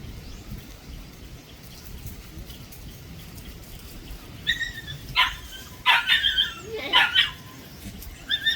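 A dog barks several times in quick bursts over a hissing, rain-like background noise, the barks fairly close and sharp.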